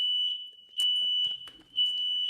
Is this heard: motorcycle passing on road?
no